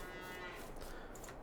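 In the video game Farming Simulator 22, cattle moo steadily against a dense, even background, with no talking.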